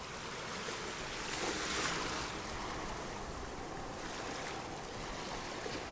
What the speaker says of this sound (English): some up close and personal recordings of some waves at the beach.